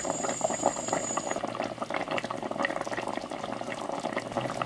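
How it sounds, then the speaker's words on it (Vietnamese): A pot of braised pork stew bubbles and simmers with its lid off, a soft continuous crackle of small bursting bubbles, close and faint. "Nồi thịt hầm của mình đã được 1 tiếng 15 phút rồi các bạn."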